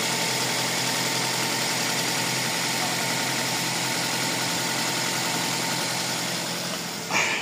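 A Toyota Avanza engine runs at a steady idle after being started, a continuous mid-pitched hum with slight vibration, close by, with a brief clatter near the end.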